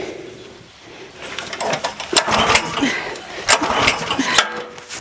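A small engine is yanked with a pull cord, sputtering and coughing in bursts without catching, close and fairly loud.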